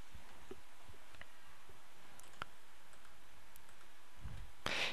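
Computer mouse clicks in Windows XP, a handful of sharp, sparse clicks spaced irregularly over quiet background hiss, ending with a louder burst of handling noise.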